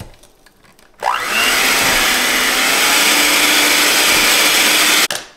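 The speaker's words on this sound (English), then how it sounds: "we're gonna whisk this together" Cookie ingredients whisked together with an electric mixer, a loud steady motor whir that starts abruptly after a quiet moment, runs continuously, and cuts off near the end.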